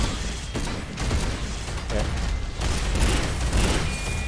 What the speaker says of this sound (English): Let's get a grenade out.